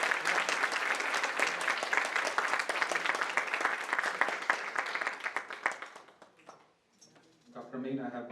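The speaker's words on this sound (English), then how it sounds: "Can we give them a round of applause?" An audience at a business talk on AI breaks into sustained, dense applause for the panel guests, loud and even for about six seconds before it fades out, after which a voice begins speaking.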